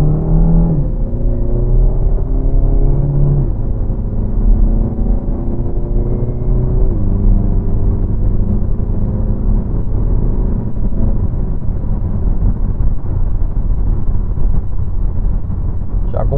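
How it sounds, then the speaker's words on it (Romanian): Renault Talisman 1.6 TCe with EDC7 automatic gearbox pulling away moderately in sport mode, engine rising and falling as it shifts up, loud steady cabin drone while a person talks over it. "O să o las în sport, în drive, și voi accelera, însă nu foarte tare, deci voi face o plecare normală"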